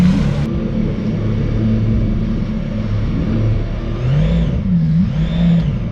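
The engine of a Formula A2 amphibious car that drives on water drones steadily and then rises and falls in pitch as it revs, loud and continuous, with a whirring undertone and no speech.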